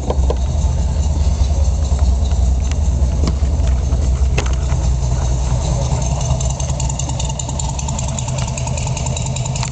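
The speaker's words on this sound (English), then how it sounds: "fires right up" A 1957 Porsche 356 Speedster replica runs at a steady idle close by, its engine giving a loud, continuous low rumble for the whole stretch with no talking.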